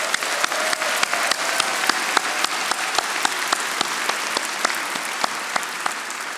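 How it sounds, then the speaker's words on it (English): Graduation guests at a Wharton Executive MBA ceremony give a round of applause. The clapping is steady and full, with sharp individual claps standing out above the dense crowd. "join me in a round of applause for those loved ones who are here"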